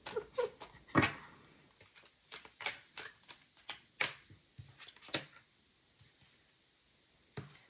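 Quick bursts of tarot cards being riffled and tapped, several short shuffles spread across a quiet room, fairly close and without any talking.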